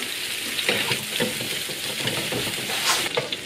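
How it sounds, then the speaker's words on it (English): Meatballs sizzle and crackle steadily in hot oil in a big frying pan, a close, continuous frying hiss with occasional stirring sounds. "Get a big frying pan, good glug of oil, heat that up, and then we're going to just quickly brown off the outside of the meatballs"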